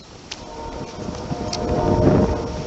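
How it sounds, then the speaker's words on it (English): Wind gusting against a microphone outdoors on a sky-watching afternoon after rain, a broad low rumble that builds steadily louder toward the end, with no talk. "the wind's hitting me in my back"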